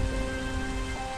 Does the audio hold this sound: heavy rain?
yes